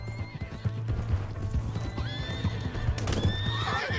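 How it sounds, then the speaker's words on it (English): Horse in the video game Red Dead Redemption 2: steady clip-clopping hooves at a trot with a rising whinny partway through and a louder neigh near the end, close up, no talk. "Hey, that's my horse."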